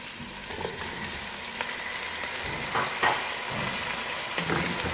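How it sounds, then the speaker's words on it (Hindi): Half a kilo of chicken frying with onions in a pot for chicken chickpea pulao, a steady close sizzle with occasional stirring scrapes and no talking. "प्याज के साथ ही चिकन को फ्राई करेंगे।"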